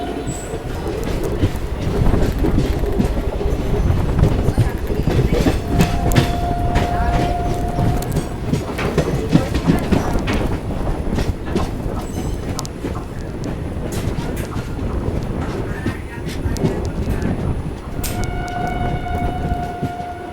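Kakinada Town–Mysore Junction Express rolling along the rails with a steady, loud rumble and rhythmic wheel clatter, a horn-like tone sounding briefly at times, heard from on board.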